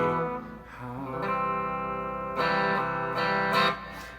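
An electric guitar with a distortion effect strums chords from an easy three-chord song, the sustained driven tone changing with each chord, loud and close and without talk.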